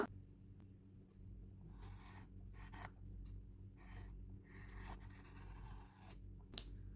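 A pencil draws a circle on paper for a geometry exercise, heard as faint, soft scratchy strokes in short bursts over a quiet background.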